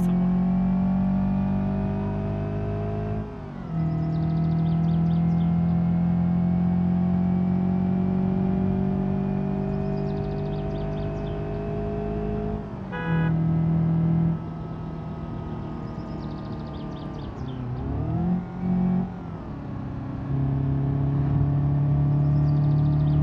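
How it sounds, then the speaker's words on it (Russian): A modified UZAM engine in a Moskvich car in the BeamNG driving game drones steadily at high revs, with several brief drops and gear-change dips before climbing again, loud and close with no talking. "Вот здесь модифицированный УЗАМ, так его пение сразу."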